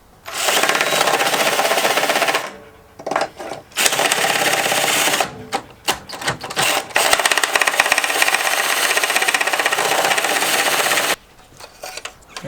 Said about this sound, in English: I'm gonna just drill this out, hog it out a little bit with this step bit